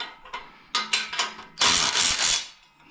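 A battery terminal is loosened in a garage with a ratchet, giving a few scattered clicks and knocks, then a louder burst of rapid ratcheting lasting about a second, close by and without talk.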